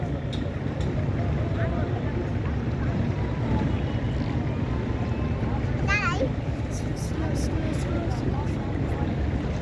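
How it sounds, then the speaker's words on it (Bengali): A passing ship's wake slaps against a small boat on open water, giving a steady broadband wash with wind buffeting the microphone, while people talk over it throughout. "আমরা যাওয়ার আগে জাহাজটা পার হয়ে যাবে আর ঢেউটা আমাদের অনেক স্পিডে এসেছে"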